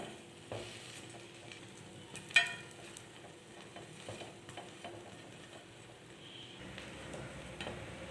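Bread slices dipped in egg fry in a pan with a steady, soft sizzle throughout, broken by a single sharp clink near the middle and a few faint scrapes.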